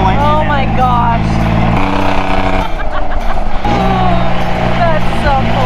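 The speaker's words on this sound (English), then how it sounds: "It's got a diesel engine." A diesel-engined golf cart driving along, a loud steady engine drone with shifting tones and a brief dip partway, under excited talk from riders.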